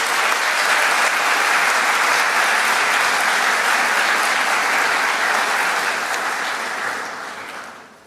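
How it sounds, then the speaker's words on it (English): Steady, sustained applause from a large audience honoring graduates at a university graduation ceremony, filling the room at an even level before fading out at the end. "let's give them another big round of applause"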